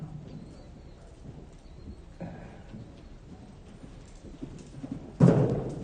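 Horse cantering in a riding arena: muffled hoofbeats thud in a loose rhythm at moderate distance, ending in a louder bump, with low background murmur.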